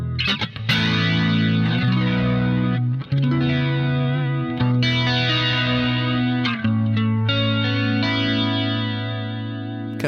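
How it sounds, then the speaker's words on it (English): Electric guitar riff played through a flanger preset on an iOS amp simulator, the sweeping jet-like modulation swirling over sustained, heavily effected chords for ten seconds with no talking. "You can hear that nice flanger."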